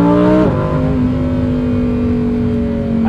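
A Lamborghini Huracan STO engine revs loud and close, dropping sharply with a gear shift early on, then holding a steady strained drone as it pulls on.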